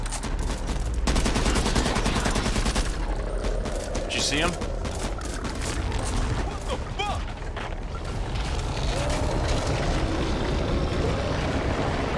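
Heavy rapid gunfire in Back 4 Blood during a final boss fight, dense machine-gun bursts running nearly nonstop at high volume, with voices talking over the shooting.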